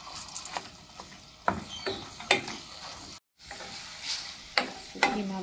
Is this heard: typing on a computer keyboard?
no